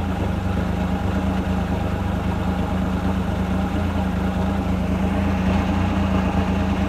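A Mercury 100 hp outboard engine idling at a low setting, a steady, even mid-to-low hum that is loud and close and runs throughout without a break.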